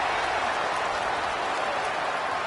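Stadium crowd roaring in a college football video game as Maryland plays at Purdue, a loud, sustained, dense wash of cheering with no breaks.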